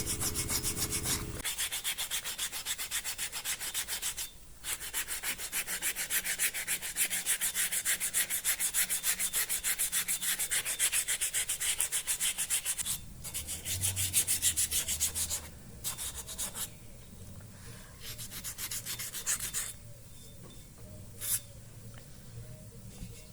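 Steady scratchy rubbing of sandpaper on alabaster, close and continuous, with a few brief pauses between strokes.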